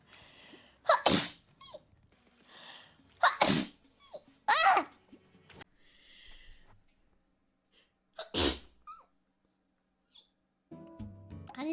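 Someone gives a string of sharp, loud sneezes at close range, four main bursts separated by short pauses, with small squeaky breaths and vocal sounds in between.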